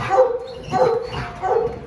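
A female dog, an American Pit Bull Terrier or American Sentinel, barks and yips excitedly in three close bursts during a yard training session.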